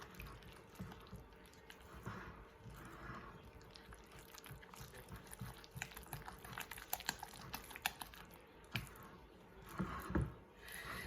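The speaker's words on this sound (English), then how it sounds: "Just stir it up really good." Quiet, close stirring of muffin batter with pumpkin mix in a bowl: soft irregular scrapes, clicks and wet squishing taps from the spoon, with no voices.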